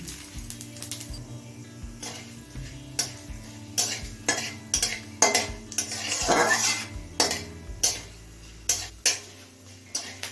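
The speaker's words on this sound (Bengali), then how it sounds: "এবার এই তেলেই ফোড়নে দিচ্ছি দুটো শুকনো লঙ্কা এক চামচ পরিমাণে দিচ্ছি পাঁচ ফোড়ন" Two dry red chillies and a spoonful of panch phoron temper in hot oil in a pan, a soft sizzle underneath repeated clinks and scrapes of a metal spoon against the pan, coming in irregular bursts.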